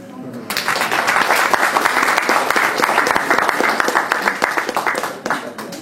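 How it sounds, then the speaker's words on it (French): Audience applause at a Muay Thai and kickboxing press conference in Paris, a dense burst of clapping that swells quickly, holds loud and steady, then tails off near the end. "Donc lui aussi on peut l'applaudir."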